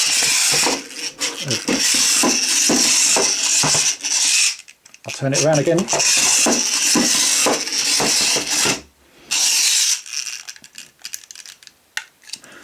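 A vintage Micronauts Betatron toy by Mego/Airfix runs its motor, driving the somersault stride mechanism with a clattering, rattling, ratchet-like whir in bursts, broken by short pauses and a brief spoken remark.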